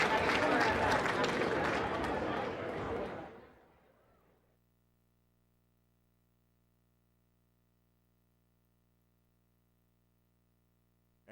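An audience at a Lane vs Central State football game applauds hall of fame inductees, a loud burst of clapping and crowd noise that fades out after a few seconds, leaving near silence.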